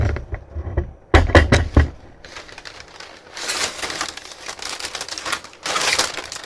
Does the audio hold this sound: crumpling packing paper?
yes